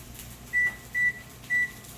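An upper oven's timer gives three short, evenly spaced electronic beeps over a faint kitchen hum while being set during broiling.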